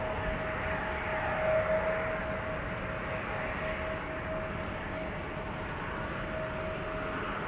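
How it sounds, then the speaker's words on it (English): An Emirates Boeing 777 freighter at Amsterdam Schiphol Airport gives a faint, steady distant engine roar with a thin sustained whine running through it, no voices present. "Triple seven freighter, Emirates."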